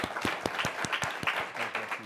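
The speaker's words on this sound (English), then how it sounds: "please join me for a round of applause to our panelists." Meeting audience applauding panelists at a regional conference on MENA power dynamics, a steady round of clapping from a seated crowd with distinct individual claps, moderately loud and continuous throughout.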